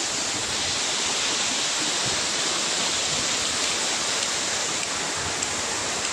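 A waterfall in the Margalla Hills roars as a steady, dense rush of falling water, loud and continuous throughout with no voices over it.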